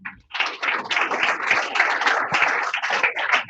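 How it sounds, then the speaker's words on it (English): A room full of people at a youth internet governance panel gives a steady round of applause, dense and even for a few seconds after a short pause, heard near and without talk. "A better round of applause."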